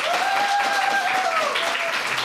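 Applause from a quiz show audience, a dense, continuous patter of clapping mixed with crowd noise, a sustained tone running through it, heard alone without talk.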